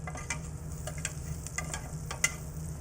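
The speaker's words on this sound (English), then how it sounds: "We're going to add our smashed garlic." Smashed garlic sizzles in a hot pan with a steady, close frying crackle and a few sharper pops and stirring scrapes; no voices.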